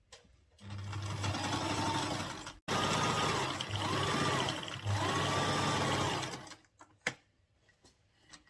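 A sewing machine top stitching a corset gown runs in three steady bursts, its needle hammering rapidly and evenly, with short pauses between runs and a sharp click as it stops.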